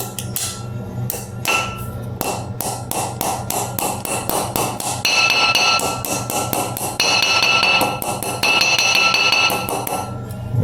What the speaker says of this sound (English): Get you a little hammer. Hammer that in.